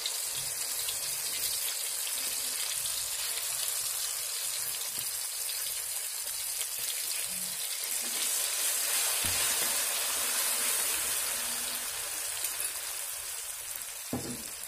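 Seasoning paste for seblak sizzles steadily in hot oil, a continuous close frying hiss with no talking.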